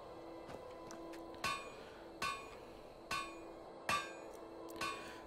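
Hammer blows on nails while building in the Skyrim video game, five sharp metallic strikes spaced roughly a second apart over a faint steady background, fairly quiet with no voices.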